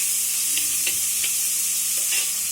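Onions and mutton fry in a pot for curry, producing a continuous close sizzle with a few soft scrapes of stirring and no talking.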